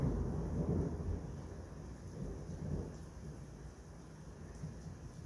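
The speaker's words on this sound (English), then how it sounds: "Heavy rain and thunder like that" Low thunder rumbles and rolls in slow waves beneath steady rain hiss, distant and moderately loud, with no voices.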